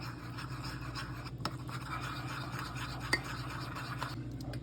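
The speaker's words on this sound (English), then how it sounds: "You're gonna take your spoon. All right, you're gonna mix it all together till there are no lumps." A spoon scrapes and stirs mug cake batter made with olive oil inside a mug, quick repeated clinks and scratches against the sides, close and fairly soft.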